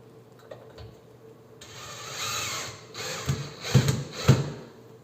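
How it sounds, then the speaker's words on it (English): A power drill whirs in short bursts, driving two screws while installing a replacement dishwasher, with a few rising, grinding pulses near the end over a quiet background. "for that I'm using my drill with the 2 screws"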